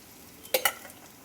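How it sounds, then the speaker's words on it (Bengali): Dried red chillies and panch phoron dropped into hot oil left from frying bata fish: two quick, loud sizzling bursts that fade into a quiet hiss. "ফোড়ন দেবো শুকনো লঙ্কা দিলাম আর দুটো পাঁচফোড়ন দিয়ে দিলাম"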